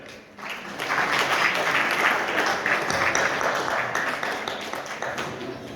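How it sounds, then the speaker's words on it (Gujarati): Sustained audience applause at a Jain community gathering, a dense wash of many hands clapping that swells after a brief quiet start and holds steady, fairly loud, for several seconds with no talk over it. "વન્ડરફુલ જોરદાર તાળીઓ આપો"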